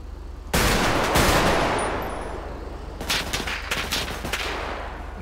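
Loud bursts of rapid gunfire from the video game GTA5 crackle in close succession, with a heavy volley followed by a choppier series of shots.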